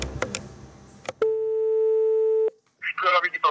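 Telephone dial tone before a phone call: a steady continuous tone that holds for about a second, preceded by handset clicks and followed by people talking.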